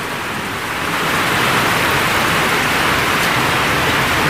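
Heavy rain pours steadily in a dense, even hiss that swells slightly in the first second and then holds loud and constant, with no voices over it.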